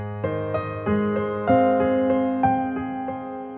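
A piano plays the second chord of a piece, with a low left-hand note under a string of repeated right-hand notes struck one after another in a slow, even rhythm, ringing clear and close.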